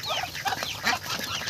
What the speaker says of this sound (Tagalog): si Arya nagpapakain ng alaga niyang pato.